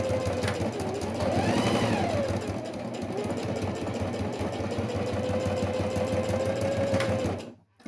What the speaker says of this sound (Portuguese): Eu já fui até o outro lado, continuei costurando.